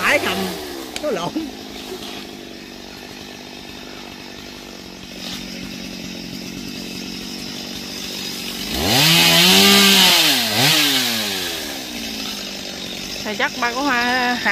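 A chainsaw revs and whines while cutting a large branch off a big rain tree. Its engine surges loudly in the middle, with voices talking over the steady buzz before and after.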